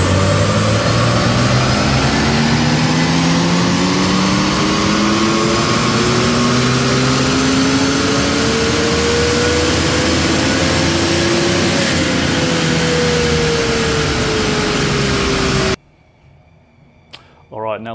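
A BMW 335i M Sport ActiveHybrid 3 with an N55 engine and 8HP automatic runs a Stage 2 dyno pull, engine note climbing steadily through the gears for about sixteen seconds before cutting off abruptly into near silence.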